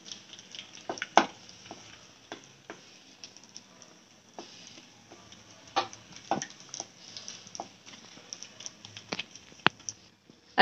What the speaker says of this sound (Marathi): तूप चांगलं कडकडीत गरम झाल्यानंतर डिंक मंद आचेवर छानसा तळून घ्यायचा.